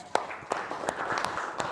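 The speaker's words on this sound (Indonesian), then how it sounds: "Kalau benar tepuk tangan" Students clap in a classroom, a handful of sharp, separate claps spaced roughly evenly over under two seconds, moderately close with faint room noise between them.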